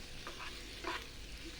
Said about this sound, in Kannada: ಅದನ್ನು ಈ ಮಸಾಲೆ ಒಳಗೆ ಹಾಕಿ ಮಿಕ್ಸ್ ಮಾಡಿ